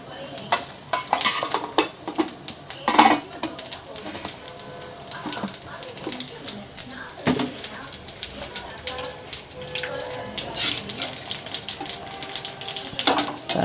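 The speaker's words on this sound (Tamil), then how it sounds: "கடுகு நல்லா பொரிஞ்சிடுச்சு." Mustard seeds crackle and pop in hot oil with cumin for a lemon rice tempering, giving a scatter of sharp, irregular snaps over a steady frying hiss, with occasional stirring clatter.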